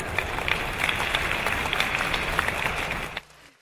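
Steady applause from an audience at a Buddhist dharma assembly in Vancouver, Canada, dense and continuous clapping for about three seconds before cutting off abruptly, with no voices over it.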